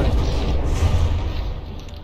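A battleship turret takes a hit and explodes in the naval combat game From the Depths, producing a dense, sustained low-frequency boom and rumble that fills the whole stretch without any talking.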